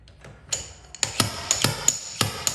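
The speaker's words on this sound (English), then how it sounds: "I'm going to use a slide hammer for this repair." Slide hammer pulling a dent during glue-pull paintless dent repair on car body metal: a series of sharp metallic knocks, about eight impacts at uneven intervals, close and fairly loud with a bright ringing edge.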